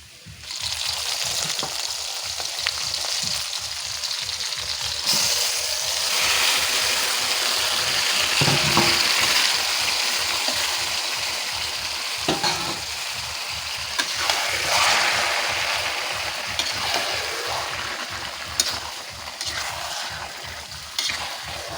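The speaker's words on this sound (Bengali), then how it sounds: "পেঁয়াজটা খুব ভালো ভাজা হয়ে গিয়েছে এবার আমি ইঁচড়টা দিয়ে দিব" Fried onions sizzle loudly in a pan as raw jackfruit pieces go in, a thick continuous crackle and hiss that swells when the jackfruit is added and stays close and steady for over twenty seconds, without speech.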